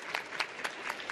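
A brief burst of audience clapping for a panel at a tech conference session, close and fairly dense, lasting only about a second.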